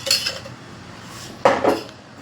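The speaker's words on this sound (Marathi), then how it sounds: "गॅसवर मी पॅन ठेवले, त्याच्यात 1 मोठा चमचा भरून तूप घालते." A big spoonful of ghee goes into a pan on a gas stove with sharp metal clinks of spoon against pan, a short burst at the start and two louder taps partway through, close and clear with no talking.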